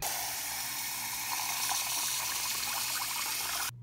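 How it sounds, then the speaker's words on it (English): Tap water runs steadily into a cup, a loud continuous gushing splash that stops abruptly near the end, with no voices. "we will be getting some water."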